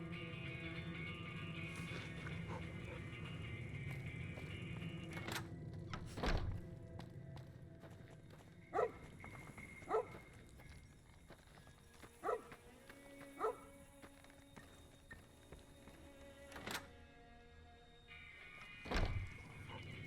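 Dog in the video game Fallout New Vegas, a few short bark-like bursts and dull thuds scattered over a quiet game ambience with faint hum, no talk.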